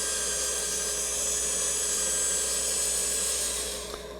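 A box elder wood bowl spun on a lathe at under 200 rpm while being sanded, giving a steady, loud whirring hiss with a dust collector droning throughout, easing off slightly near the end.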